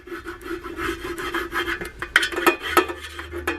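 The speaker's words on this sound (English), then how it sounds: "I'm gonna have to like totally scrape that out because it already hardened" Hardened pure unfiltered beeswax is scraped out of a container in steady close rasping strokes, with a few sharper scratchy scrapes toward the end.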